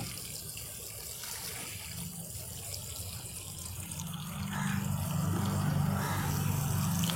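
Water poured from a tap into a basin of coco peat, a soft trickling stream that grows fuller and louder toward the end, heard close with no talking.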